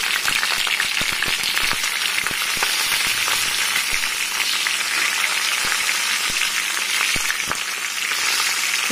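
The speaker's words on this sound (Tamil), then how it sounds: "இப்போ இது வந்து இந்த எண்ணெயிலேயே நல்லா வணங்கட்டும்" Green chillies, cumin seeds and garlic cloves fry in hot oil in a pan, giving a loud, steady sizzle with dense crackling pops throughout and no voices.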